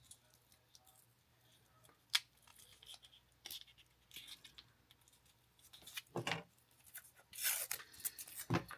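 Tape is pulled and pressed onto parts of a Revell 1971 Hemi Cuda scale model with a Viper V10 swap. Faint handling rustles lead to louder crinkly tearing bursts near the end.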